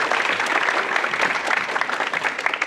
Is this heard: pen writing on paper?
no